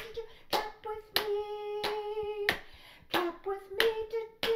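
Hands clapping along to a children's song rhythm, sharp close claps in an uneven repeating pattern over a background tune with sustained tones.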